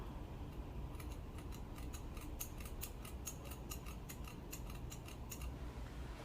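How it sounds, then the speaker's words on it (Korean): Scissors snip through a gathered section of side-swept bangs held upright, a quick run of crisp close cuts repeating steadily over low room noise, with no voices. "머리는 모아서 그리고 가위는 눕혀서가 아니고 세워서 잘라보겠습니다."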